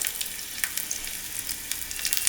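Mustard seeds, chana dal, urad dal and dried red chillies tempered in hot oil for tomato dosa batter, giving a brief, bright, hissing sizzle with scattered crackles and no voices.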